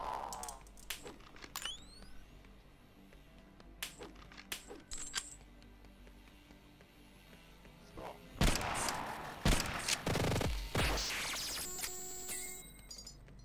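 Gunfire from a rifle in the VR shooter Compound, a burst of loud close shots clustered in the last few seconds after quieter thumps and clicks, with no talk.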